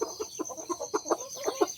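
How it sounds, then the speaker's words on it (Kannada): Chickens cluck in quick, close, uneven bursts, a run of short clipped calls repeating roughly every fifth of a second with no talking. "ಕೋಳಿ ತಿಂತಾವ"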